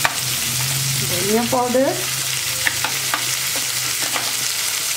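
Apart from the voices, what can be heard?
spices frying and being stirred in a pan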